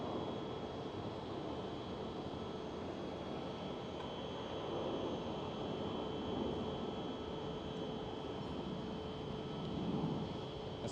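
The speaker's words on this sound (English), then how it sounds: "And there goes the next KLM Cityhopper" A KLM Cityhopper Embraer E175 departs Amsterdam Schiphol, a quiet, steady jet hiss and rumble heard from a distance, faint and even, with a thin tonal whine running through it and nobody speaking.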